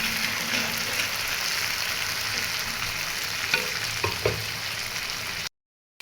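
Food frying in a pan for a beef and potato home-cooked meal, a steady close sizzle with a few sharp stirring clacks near the end before a brief cut to silence.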